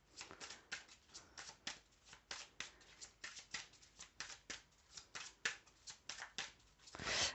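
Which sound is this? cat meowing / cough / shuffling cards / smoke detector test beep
shuffling cards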